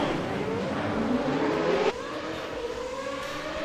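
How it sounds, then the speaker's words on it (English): Formula Renault 3.5 race cars storming down toward the Tamburello chicane at Imola, a dense steady engine roar with rising pitch sweeps that drops to a slightly quieter, continuing drone halfway through. "Cars all storming themselves down in towards Tamburello chicane for the first time"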